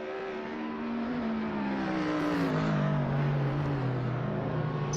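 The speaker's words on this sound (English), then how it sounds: "Some of these cars are very loud" Loud racing car engines roar continuously in the Assetto Corsa sim during a Bathurst touring car race, with several engine notes rising and falling together close up, no talking.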